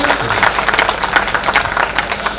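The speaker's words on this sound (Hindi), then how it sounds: "हाँ एक बार तालियां बजाइए।" An audience claps together at a Hindi comedy poetry show in Karol Bagh, a loud, dense burst of applause lasting a couple of seconds.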